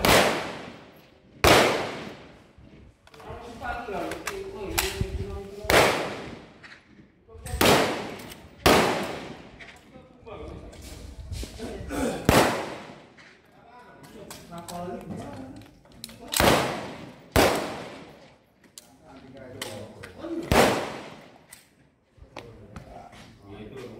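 Repeated single shots from a Pindad SS2-V5 A1 assault rifle at a firing range, loud and close, spaced a few seconds apart across the clip, with people talking between and under the shots.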